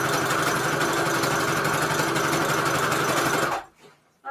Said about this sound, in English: just sew down the middle or on the side